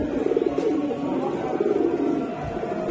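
High flyer pigeons coo softly and steadily over a low, noisy background, their murmuring calls repeating through the short stretch with no one speaking.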